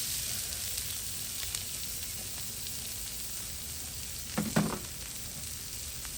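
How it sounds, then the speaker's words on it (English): Chopped onions sizzle steadily in a hot paella pan after the meat has been removed, a constant close frying hiss with a brief scrape of stirring near the end. "let's go ahead and add our onions"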